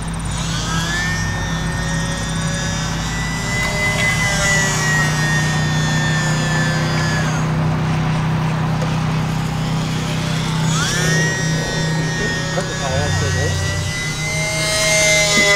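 The electric motor of a UMX Pitts S-1S RC biplane whines steadily, falls silent for a few seconds as power is cut in a stall and spin dive, then spools back up.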